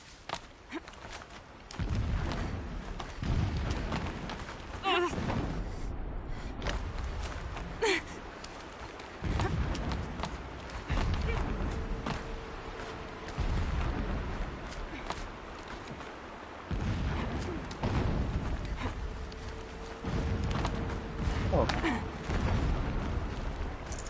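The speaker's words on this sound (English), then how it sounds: "Explosions in the distance. Pay that no mind." Distant explosions rumble in the video game Horizon Zero Dawn, a series of low booms spaced every few seconds over a continuous ambient bed.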